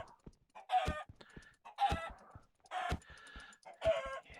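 Four evenly spaced clucks from a chicken boss in a Minecraft modpack, each a short squawk with a burst of noise, moderately loud with no speech.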